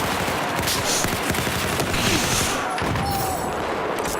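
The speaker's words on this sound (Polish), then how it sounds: "Tu gdzieś ktoś strzela przed chwilą" Rapid gunfire from a Battlefield 4 match, dense bursts of shots and automatic fire rattling continuously and loudly throughout, with a few heavier low thumps mixed in.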